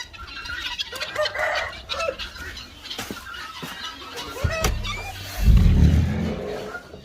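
Chickens clucking in a farm coop, scattered near clucks and calls over a background murmur, followed by a loud low rumble of handling or movement near the end.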